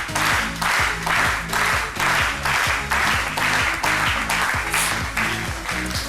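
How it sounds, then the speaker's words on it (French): An audience at a televised midday broadcast applauds a guest, with steady, continuous clapping throughout and a rhythmic musical beat pulsing beneath it. "merci de bien vouloir l'applaudir"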